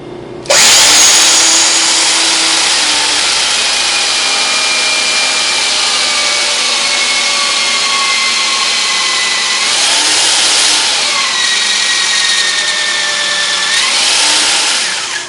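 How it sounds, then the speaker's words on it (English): A drill cutting film mounted in a jig runs loud and steady for the whole stretch, a continuous whine that dips in pitch and swells again twice as the bit works through the material, with no talking. "we'll show you just the beginning of starting to drill and cut the film at that point"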